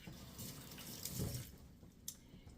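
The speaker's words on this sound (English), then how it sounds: "I'm going to rinse my hands off." Tap water running steadily into a sink while hands are rinsed, a soft continuous splash heard close and alone.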